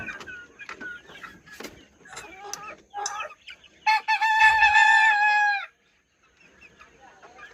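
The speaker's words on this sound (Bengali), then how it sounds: "এই যে দেখতে পাচ্ছেন মুরগিগুলো বেশ চঞ্চল আছে" Young caged chickens kept alongside quails, clucking in short repeated calls close by, then one long loud crow-like squawk before a brief quiet spell with faint clucks.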